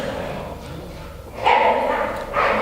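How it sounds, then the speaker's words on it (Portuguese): Small dogs barking at a house, a couple of yips standing out over steady room background while someone talks nearby. "Se vocês estão escutando alguns latidos, são os cachorrinhos aqui cuidando da casa."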